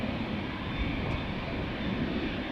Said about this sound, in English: American Dreamliner going to Philadelphia,